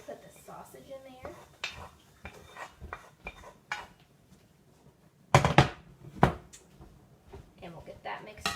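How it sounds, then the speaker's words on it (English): Sausage tipped into a pan of sweet potatoes for a hash, heard as a few soft clinks and scrapes, then two sharper louder clatters of utensils against the pan, with talk underneath. "So I'm going to put the sausage in there."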